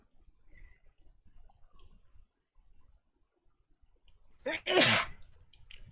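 A single loud, close sneeze bursts out near the end after quiet low background rumble, during a Fire Emblem: Three Houses gaming stream.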